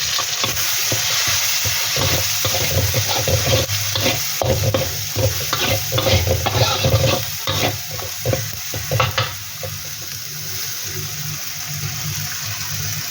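Kerala fish curry powder sautés in sunflower oil in a pan, with a steady sizzle and repeated spoon-stirring scrapes that grow sparser toward the end, no voices.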